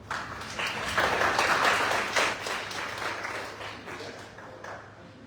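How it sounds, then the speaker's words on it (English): Audience applause for a guest speaker at a first-time homebuyers workshop held during dinner hours, a steady dense clapping that swells in the first second or two and then slowly tapers, with faint voices mixed in. "So if you'd be so kind as to give a round of applause for our guest speaker, Mr. Joel Anderson."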